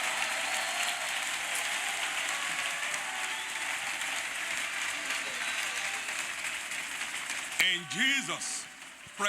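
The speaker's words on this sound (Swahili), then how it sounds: "Mpige Yesu makofi makubwa ya sifa tafadhali." A church congregation applauds loudly and continuously in a long, dense wash of clapping that fades as a voice starts speaking near the end.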